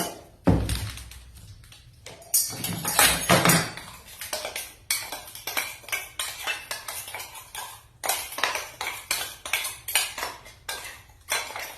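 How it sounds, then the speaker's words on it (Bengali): A spoon or whisk stirs powdered sugar into flour in a bowl for a chocolate fruit cake, making repeated scraping clatters and taps against the bowl in uneven rhythmic bursts. "এতে এবার এই চিনি গুঁড়োটা মিক্স করে নেবো।"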